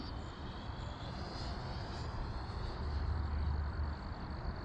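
An FMS Avanti 90mm electric ducted fan sport jet flies overhead, giving a steady, broad whooshing roar that swells slightly as throttle is eased back, continuous and moderately distant.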